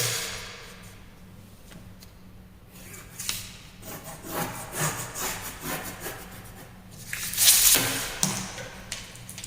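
Scissors cut through a paper skirt pattern drafted for an A-line or mermaid skirt, making rough rubbing and crisp snipping strokes that grow louder in bursts toward the end.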